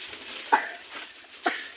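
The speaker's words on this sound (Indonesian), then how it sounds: "Wedhuse batuk." A goat coughs twice, short harsh bursts about a second apart, fairly close over a quiet background.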